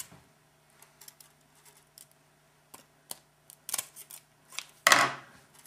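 A few sharp, close snips of cutters slicing through craft wire while shaping a holiday tree, isolated clicks building to a louder final cut, with no talking.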